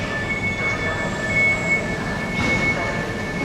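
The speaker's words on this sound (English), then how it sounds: "the train goes whizzing past us" A Polish train rumbles past close by at a station, its wheels squealing with high metallic tones over a constant roar.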